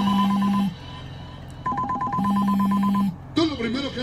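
A mobile phone ringtone plays loud and close, a synthetic melody in repeating phrases with brief gaps and a change of tune near the end.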